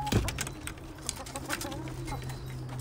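Racing pigeons settling at a loft, a close burst of wing flaps near the start followed by soft bird calls and cooing over a steady low hum, with no talk.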